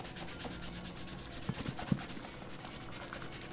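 Steady rubbing of conditioner into leather boots with one-direction strokes, a soft continuous sanding-like scuff with a few faint knocks midway, close and unaccompanied by talk.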